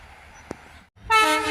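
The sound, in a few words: train arriving at station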